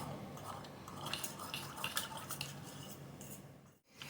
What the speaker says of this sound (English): As that sauce heats and bubbles, it'll start to thicken.